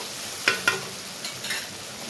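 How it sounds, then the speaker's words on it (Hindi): Cumin seeds and asafoetida hitting hot oil in a Rajasthani kitchen give a soft, steady sizzle, with two sharp crackling pops early on and a few lighter spits afterward, heard close and alone. "तेल गरम हो गया हमें जीरा और हींग ने दिया"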